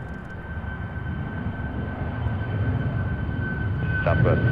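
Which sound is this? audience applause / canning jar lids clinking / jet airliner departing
jet airliner departing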